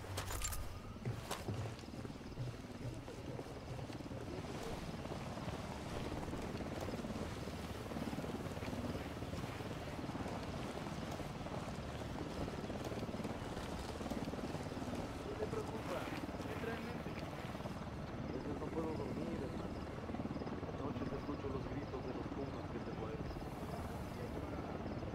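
In the Ghost Recon Wildlands video game, a helicopter approaches as a steady, dense rotor and engine roar that holds for the whole stretch, with wind-like noise layered over it.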